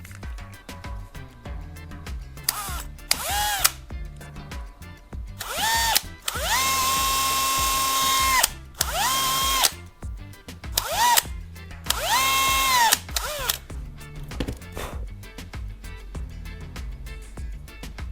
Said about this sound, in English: On its cap, I'll drill a hole in the center.